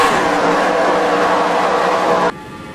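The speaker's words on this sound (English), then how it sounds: "These cars are going really fast." Race car engines screaming at high speed in a racing video game series at the Blue Ridge track, a loud, steady, close engine whine that cuts off abruptly near the end, leaving a fainter hum.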